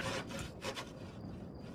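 Wood being sawn in the online game Wurm Online, heard as a continuous rasping with back-and-forth strokes, close and steady with no talking.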